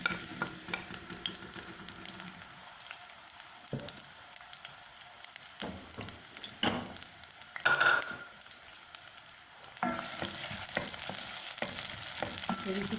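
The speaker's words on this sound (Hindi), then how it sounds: "ऑयल गर्म हो गया। अब हम इसमें डाल देंगे प्याज।" Chopped onions sizzle and fry in half a cup of hot oil in a kadai, a steady close hiss with intermittent stirring scrapes of a spoon, swelling louder in the last few seconds.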